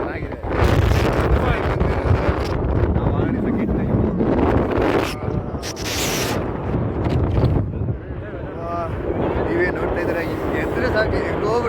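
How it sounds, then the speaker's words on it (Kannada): Strong wind gusts across the hilltop of Himavad Gopalaswamy Betta, roaring and buffeting the microphone in a continuous loud rush, with voices talking underneath. "ಅಷ್ಟು ರೇಂಜ್ ಗಾಳಿ ಇದೆ"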